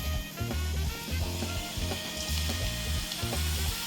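Potato chips frying in hot oil over a medium flame, a steady dense sizzle and crackle mixed with a rhythmic low mechanical thumping pattern underneath, no talk.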